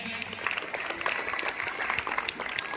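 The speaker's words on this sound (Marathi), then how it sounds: "सर्वांनी टाळ्या वाजवून त्यांचं कौतुक करायचं आहे" An audience at a children's Saturday celebration claps together for a frame the children made. The applause is dense and sustained from start to finish, a crowd clapping at moderate loudness with faint voices mixed underneath.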